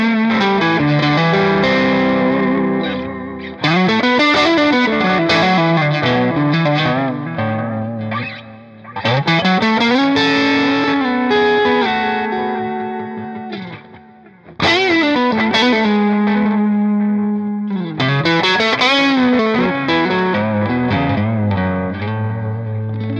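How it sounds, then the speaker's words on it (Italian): Distorted electric guitar through a CostaLab EchoLab delay pedal in vintage mode, playing loud sustained chords and melodic lines with warm, smeared repeats trailing each phrase, in three or four bursts separated by brief dips. "Questa è la modalità vintage, sentiamola in distorsione."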